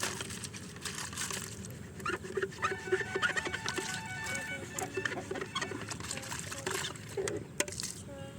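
Water splashes and trickles while chicken drinkers are washed on a farm, a soft patter with scattered plastic knocks and faint background voices.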